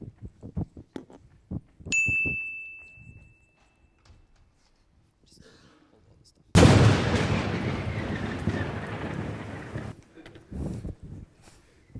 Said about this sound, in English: Oh, a notification.